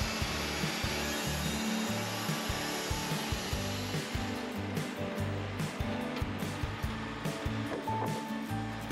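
A Wood-Mizer band sawmill cuts through a large Douglas fir cant, a steady rough whirring and rasping drone with rhythmic pulsing as the blade moves through the wood, loud and close with no talking.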